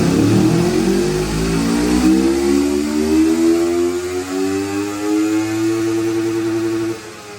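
A Kove Thornbird 250RR motorcycle runs a horsepower test on a dyno, its engine revving loudly in one steady climbing pull that rises in pitch for about seven seconds before cutting off abruptly.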